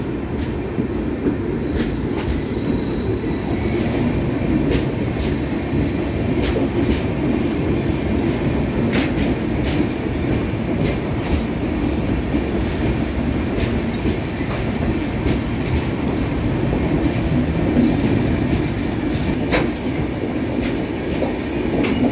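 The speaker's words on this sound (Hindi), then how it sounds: "देखिए दोस्तों, काठगोदाम देहरादून एक्सप्रेस ने इसी के साथ लखनऊ देहरादून वंदे भारत को भी ओवरटेक कर लिया है।" Kathgodam Dehradun Express, departing Haridwar Junction, rolls past while overtaking the Lucknow Dehradun Vande Bharat, giving a steady close rumble of wagons with clicking wheels and occasional squeal throughout, no voices.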